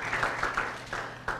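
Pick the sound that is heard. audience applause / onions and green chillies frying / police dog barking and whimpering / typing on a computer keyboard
audience applause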